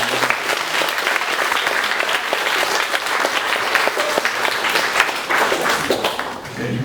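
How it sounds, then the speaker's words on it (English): An audience claps in a loud, sustained round of applause, a thick continuous patter of many hands with scattered sharper claps. "let's give them a big round of applause"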